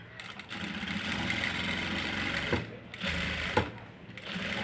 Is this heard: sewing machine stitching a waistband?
yes